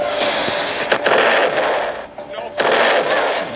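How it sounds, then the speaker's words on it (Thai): Rapid gunfire bursts in a video game, loud cracking shots in quick runs with brief pauses, under someone talking. "ยิงตายเลย"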